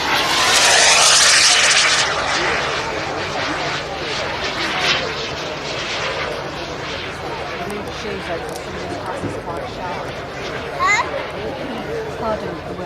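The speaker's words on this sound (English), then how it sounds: "Second one that's just taking off now is a Eurosport." A Eurosport model aircraft takes off at a Blackbush model aircraft show, its small engine droning loud at first and then fading into the distance over open-air crowd noise.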